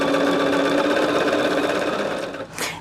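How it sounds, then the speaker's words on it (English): A sewing machine runs steadily at speed, stitching jelly roll quilt strips together for a scrap quilt, a loud, even mechanical whirr that holds without a break before winding down at the end. "And as I'm sitting here sewing,"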